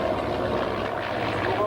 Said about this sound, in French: Voilà le Bulldog, regardez notre petit avion d'entraînement britannique